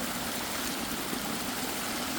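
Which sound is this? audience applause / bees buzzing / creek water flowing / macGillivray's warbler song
creek water flowing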